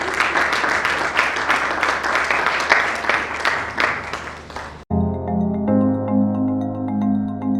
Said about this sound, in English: Another round of applause for Coach Lara Yeku, please.